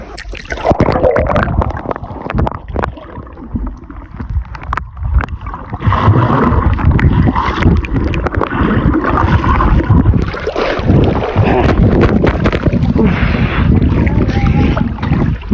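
A person takes a dip while bathing in water, making loud close splashing and sloshing with buffeting wind noise throughout.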